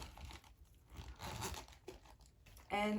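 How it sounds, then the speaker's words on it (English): Plastic crinkles and rustles in short bursts as air is squeezed out of a small zip baggie, ending with a louder squeaky crackle; faint talk in the background. "I'll remove the air out of the baggie"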